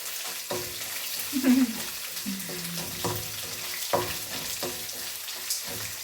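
Quiet sizzling of ginger, garlic and green chilli frying in a fast-heating pan, with a few scraping stirs and clanks of a utensil over low background noise.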